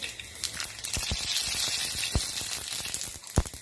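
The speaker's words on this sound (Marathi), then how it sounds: "राई तडतडली पाहिजे" Mustard seeds splutter and pop in hot oil in a kadai, with asafoetida already added. A steady soft sizzle carries scattered sharp crackles and pops, close by and with no talking.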